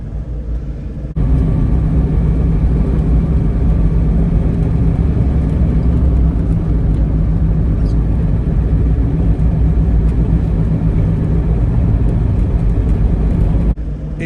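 A 2010 Land Rover Defender 110 TDCi XS station wagon drives along a road, its diesel engine giving a loud, steady, close rumble with road noise that stays constant throughout.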